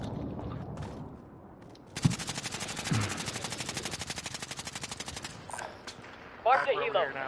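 Rapid automatic gunfire in the video game Warzone on PS5 rattles for several seconds as a sustained burst, bracketed by a few sharper shots and game noise, with players chatting underneath.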